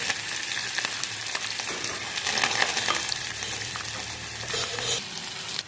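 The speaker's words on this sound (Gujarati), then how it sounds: "હવે આ તેલ આવી ગયું, બધા મસાલા નાખશું" Spices crackle and sizzle in hot oil in a pan while khichdi is being made, giving a close, continuous frying hiss with scattered pops and stirring scrapes and no talking.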